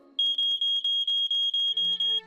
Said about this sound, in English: That's the sound of the smoke alarm.